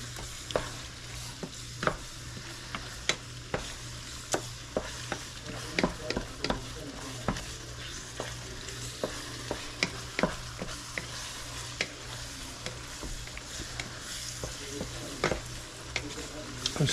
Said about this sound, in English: Let's stir all that seasoning in there real thorough.